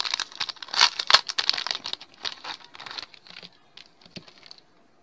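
Small plastic packets for card protection crinkle and rustle up close as they are handled, loud irregular crackles that thin out and fade toward the end, with no voices.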